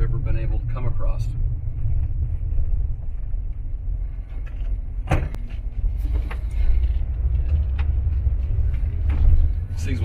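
The engine of a 1984 Volkswagen Vanagon Westfalia camper runs as a steady low rumble heard from inside the moving vehicle, with road and wind noise and a few knocks.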